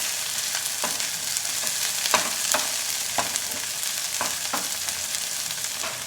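Tomatoes soften in a covered pan for a green dum aloo curry, giving a steady low sizzle with a few soft clinks and taps of a utensil or lid scattered through it, and no talking.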